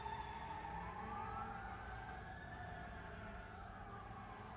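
A fire truck siren going down a residential street fades into the distance as a faint, wavering wail under a steady background hiss.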